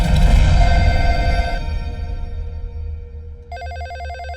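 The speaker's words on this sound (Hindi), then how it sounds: "फोन उठाओ ना।" A telephone rings with a rapid electronic warbling trill in short repeated bursts, starting near the end as louder dramatic music fades out beneath it.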